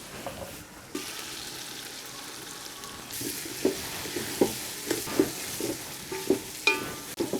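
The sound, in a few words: vegetables sautéing in a pan for brinji biryani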